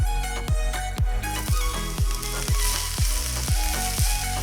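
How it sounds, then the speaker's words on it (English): Onion and garlic frying in olive oil in a pot, a loud, steady close sizzle with regular clicks from stirring about twice a second, no talk. "add some olive oil to a pot and toss in the onion and garlic"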